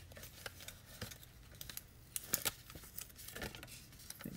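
Scissors snip through designer paper glued around its edges, a run of short crisp cuts and crinkles at close range, fairly quiet with no talking.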